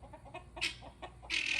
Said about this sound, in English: And my guineas are really mad.